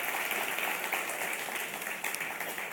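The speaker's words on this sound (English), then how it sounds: "Big round of applause for him." Audience applause at the Telenor Youth Forum 2017 finale in Bangladesh, a steady wash of many hands clapping that fills the whole stretch at a moderate distance, with no one speaking.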